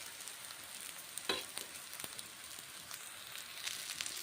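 Green pea vadas fry in hot oil with a soft, steady sizzle and faint crackles, a quiet stir or clink now and then.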